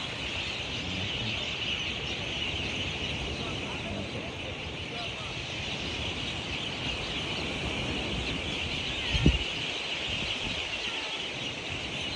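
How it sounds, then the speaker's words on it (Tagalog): Many seabirds calling along the seaside at Cabongaoan, their cries faint and scattered beneath a steady wash of wind and surf, with one brief bump near the end. "Diyan yung mga ibon po, daming ibon."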